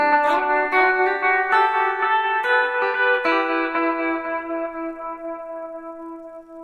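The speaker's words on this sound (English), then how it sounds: "Now how about some reverb here? Let's crank up this hall." An electric guitar plays through a Peavey Bandit amp with a hall reverb effect, picked notes ringing out one after another and trailing off into a long, spacious decay.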